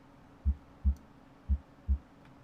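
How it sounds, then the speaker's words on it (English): Heartbeat through a stethoscope in a GTA roleplay doctor's exam: four soft, low, evenly spaced thumps at a steady resting pace over faint background hum. "Check your heartbeat over there."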